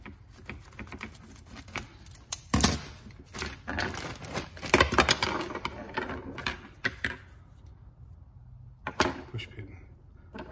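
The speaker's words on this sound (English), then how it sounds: "I'm gonna take all this out of the bag and bring it back over to the pan." Replacement rear suspension support clamp parts for a Porsche Cayman rustle and clink as they come out of a bag, with scattered close clicks and rattles, one louder clatter, then quieter handling.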